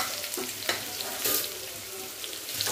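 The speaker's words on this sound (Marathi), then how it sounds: "थोडंसं याला परतत राहायचं आपल्याला, 1-2 मिनिट असंच परतून घ्यायचं।" Dilpasand vegetable stir-fried with garlic and cumin in a pan, giving a steady close sizzle with light scraping stirs over about three seconds, no talk.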